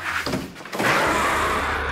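Someone tries to open a door, making a short burst of rattling and scraping from the handle and door. The noise is close and fairly loud and lasts under two seconds, with no speech.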